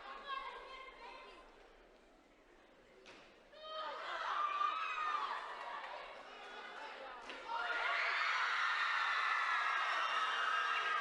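An arena crowd at a junior world weightlifting championship, women's 64 kg, reacting to a successful lift: a hushed room swelling into sustained cheering and applause that grows louder and holds, with voices mixed through it.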